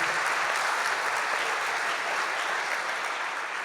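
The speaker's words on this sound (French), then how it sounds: "On l'applaudit Guillaume." Steady, dense applause from an audience thanking a presenter at a French-language professional meeting, filling the whole stretch evenly at moderate loudness with no voices over it.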